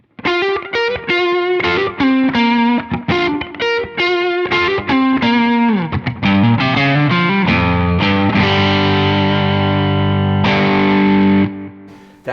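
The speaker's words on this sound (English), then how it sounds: "this is the clean amp and the clean profile and the pedal." Electric guitar played through a pedal into a clean amp profile, a loud run of distorted picked notes and chords that ends in sustained ringing chords before cutting off.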